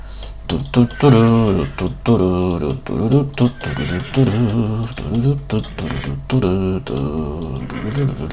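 A horse in a sheep-themed video game whinnies in a run of loud, wavering neighs close up, with clicking like keyboard typing between the calls.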